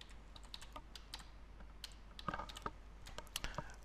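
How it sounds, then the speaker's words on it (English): Quick, light clicks of fingers typing a word on a computer keyboard, irregular taps close to the mic over a faint low hum. "Now let's just type the word"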